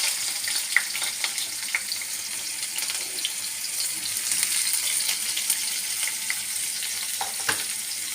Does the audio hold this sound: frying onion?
yes